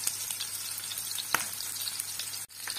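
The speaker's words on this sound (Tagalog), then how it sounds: "Kaya dyan na rin natin igigisa ang ating mga bawang at sibuyas" Garlic and onions sauté in a pan for a beef steak dish. A steady close sizzle runs throughout, broken by a few sharp clinks and scrapes, with no voices.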